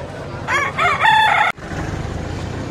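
Fighting rooster crowing at a Vadalur livestock market, one loud, close crow of about a second that cuts off sharply, followed by steady market bustle.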